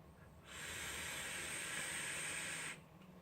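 Vapor hiss from an Eboss Blizz RDA with fused Clapton coils at 0.1 ohms, fired at 110 watts on a Smoant Battlestar with airflow closed, a steady airy rush lasting about two seconds then cutting off.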